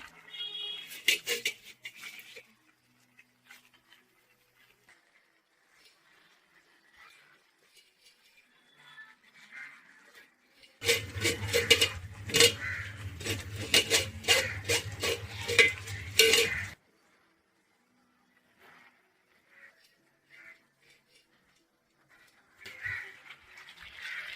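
Washed spinach greens are dropped into a pan and stirred while cooking, with a burst of sizzling and clattering utensil scrapes in the middle, framed by quieter intermittent stirring and clinks.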